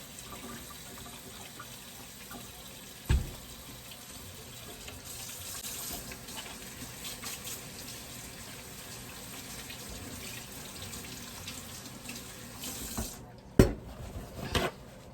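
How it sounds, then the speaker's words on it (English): Hands are washed under a running kitchen tap, a soft, steady stream of water splashing in a sink, broken by a couple of sharp knocks. "let me wash my hands."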